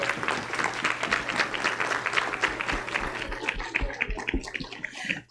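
A standing room at a school board meeting applauds its Teachers of the Year, brisk, dense clapping with distinct sharp claps, thinning slightly near the end, with a low hum beneath.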